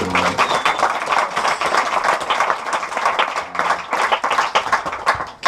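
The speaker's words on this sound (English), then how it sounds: "please give him the biggest round of applause" Comedy club audience clapping for a comedian in Luxembourg, a loud, dense burst of many hands with a few cheers and voices mixed in.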